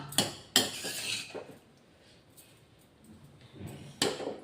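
Cooked tomatoes are mashed in a pan for tomato chutney: a few sharp clanks of a utensil against the pan, then scraping and faint rustling, and another metallic knock near the end, with no voices.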